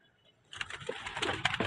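Breeding pigeons in a loft, one sitting on eggs. Faint cooing and rustling begin after a short quiet moment and continue close by.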